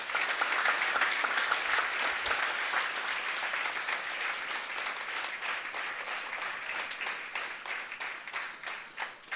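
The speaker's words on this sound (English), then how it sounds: "I think we should give a very big round of applause for this" Applause from an audience at a Vyas Puja celebration at ISKCON Hyderabad, dense sustained clapping that holds steady, then thins slightly toward the end.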